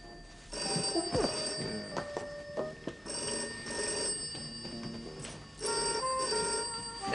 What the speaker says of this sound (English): The telephone, it's ringing.